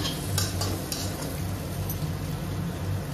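A pan sizzles steadily as jackfruit fries with spices, with a spoon scraping and stirring, occasional light clinks of metal, and no one speaking.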